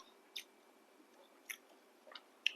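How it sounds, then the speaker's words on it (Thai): Chewing fiddlehead fern (phak kut) eaten with grilled fish chili dip: a few soft, close crunchy bites and mouth sounds spaced out over a quiet background. "ครั้งแรกกับการกินผักกูดค่ะ รสชาติจะเป็นยังไงไม่เคยกินเลย"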